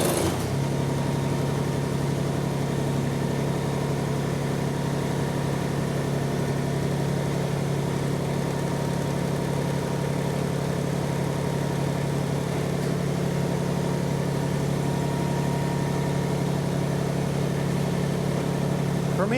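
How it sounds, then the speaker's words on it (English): Subcompact tractor engine running steadily at idle while its loader boom is lowered into place, a loud, continuous low drone that stays even throughout with no voices. "we're just going to try to lower the boom into place"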